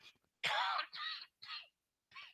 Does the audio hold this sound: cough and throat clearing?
yes